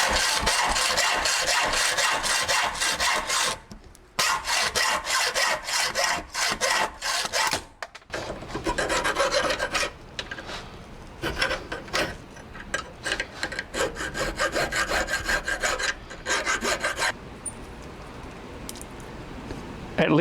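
A part clamped in a bench vise is trimmed with a hand saw during repair of an aluminum ATV and motorcycle lift jack, giving steady close rasping strokes in bursts with short pauses.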